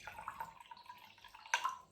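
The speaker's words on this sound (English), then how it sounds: "I add Kangen water." Quiet trickling and dripping of Kangen water poured into a glass containing a few drops of green tea, with a few soft splashes and a brighter plop near the end.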